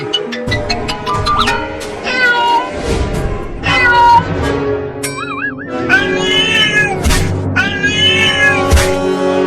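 A cartoon cat meows and yowls repeatedly in drawn-out, wavering cries, loud and close, with a few brief voice-like bits between calls.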